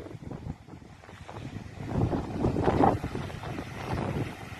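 Gusty coastal wind at Aphrodite's Rock in Cyprus buffets the microphone in rough, rumbling bursts that swell and fade, loud and close, with no voices.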